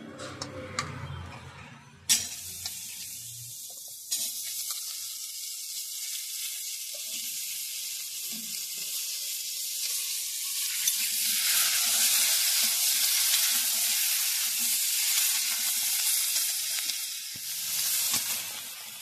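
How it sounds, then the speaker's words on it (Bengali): Vegetables and cauliflower stalks hit hot oil in a kadai with dried chilli, panch phoron, bay leaf and hing, bursting into loud steady sizzling that swells and continues, with a few sharp clinks of stirring and no talk. "এরপর বাকি যে সবজিগুলো আছে এগুলো আমি কড়াইয়ে দিয়ে দিচ্ছি।"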